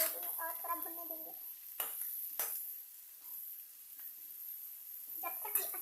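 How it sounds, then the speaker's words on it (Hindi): Onions stir-fry in a pan for a desi chicken curry, with a soft steady sizzle under scraping stirs and a few sharp clinks of a spoon against the pan. "देखिए मेरा प्याज अभी थोड़ा पका है, थोड़ा सा भुनता रहेंगे और थोड़ा भुनने देंगे।"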